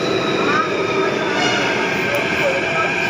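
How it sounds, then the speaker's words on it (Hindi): A Delhi metro train rumbles and hisses steadily at Mandi House station, with faint wheel squeal over the continuous rolling noise and no speech. "यहाँ से मेट्रो आ गई है और यहाँ से चलेंगे नेहरू प्लेस।"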